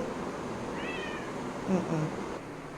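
A pet cat meows softly a couple of times against a steady background hiss, faint and somewhat distant.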